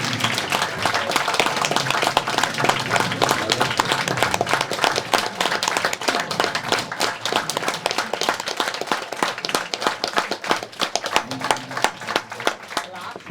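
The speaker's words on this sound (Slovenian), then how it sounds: "zdaj pa lahko vsi ustanemo pa zaploskamo Miranu, Mateji" A standing audience at the close of a Slovenian talk by Miran Rubin claps steadily, dense and loud sustained applause that continues unbroken throughout with a faint voice in the background.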